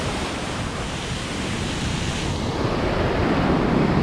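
Ocean surf breaking on a South Shore beach during surf fishing, a steady, loud wash of broadband noise that swells toward the end, with wind across the microphone and no talk.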